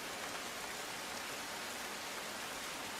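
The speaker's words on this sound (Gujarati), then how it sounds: "ધોધમાર વરસાદ વરસતા" Heavy rain pours down steadily in Rajkot district, a dense, even hiss of water with no breaks, moderately faint and with no voices.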